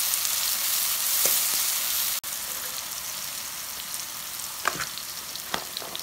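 Mushrooms fry in a pan with a steady, close hiss of sizzling and scattered pops and crackles, with one brief sharp click partway through; nobody speaks.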